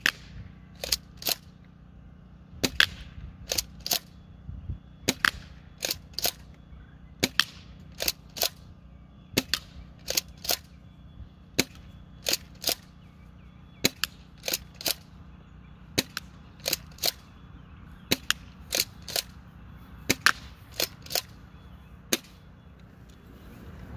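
A CYMA M3 Super 90 airsoft shotgun is fired through a chronograph, giving about two dozen sharp, loud snapping shots spread unevenly over the stretch, often in quick pairs, with quiet gaps between them.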